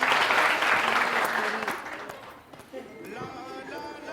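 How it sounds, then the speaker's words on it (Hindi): A TV morning show's studio audience bursts into loud, dense clapping that fades over a couple of seconds before a host resumes talking. "सबसे पहले आप लोग जरा तालियां बजाना शुरू कीजिए"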